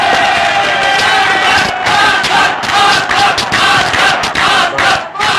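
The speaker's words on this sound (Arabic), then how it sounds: "زي ما احنا شايفين الجمهور بيحيي الفريق الأصفر اللي بيتقدمه زيزو" A football crowd in a club stadium loudly cheers and chants to greet the yellow team, a dense roar of many voices swelling and dipping with rhythmic shouts throughout.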